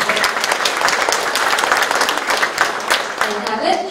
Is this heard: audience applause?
yes